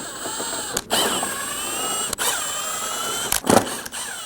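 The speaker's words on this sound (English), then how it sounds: "we're going to remove all of the 10mm bolts going across the front" Power tool on 10mm bumper bolts at the front bumper of a 2008-2015 Scion xB, a whirring motor with short ratcheting bursts and clicks, close up.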